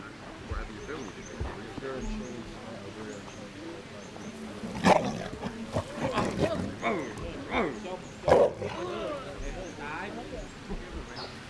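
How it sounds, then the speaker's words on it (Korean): Large tigers on display outdoors at the Tiger Temple in Thailand, giving a couple of low growls or roars amid busy crowd chatter and ambient noise, the loudest bursts near the middle and toward the end. "덩치가 큰 호랑이들이 전시됩니다."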